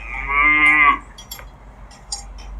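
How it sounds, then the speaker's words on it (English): A cow lets out a single drawn-out moo lasting about a second, loud and close, followed by faint background sounds and no talk. "I hear a cow"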